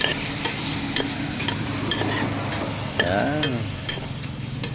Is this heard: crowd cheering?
no